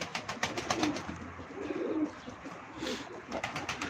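Pigeons at a live Turkish pigeon auction coo in soft, repeated low calls through the whole stretch, with several birds overlapping close by and no talk over them.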